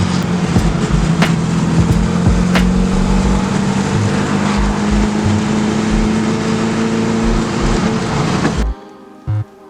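A VW Beetle engine drones loud and close while driving in second gear, its pitch rising slowly and steadily with rough rumbling underneath, then cutting off abruptly near the end.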